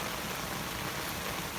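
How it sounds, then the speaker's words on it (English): Ordinary rain pours down by a backyard fence, a constant gentle wash of drops hitting the ground, even in level and free of speech. "This is normal rain, by the way."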